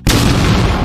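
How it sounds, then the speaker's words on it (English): A loud, heavy explosion sound effect from a CapCut editing library bursts in abruptly and holds as a dense, sustained roar for nearly a second. "it's a very strong explosion"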